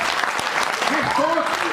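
Steady applause from an audience at a mushaira poetry gathering in Noida fills the clip, with a voice briefly audible over the clapping.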